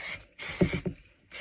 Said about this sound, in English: Maximum Finishing Spray.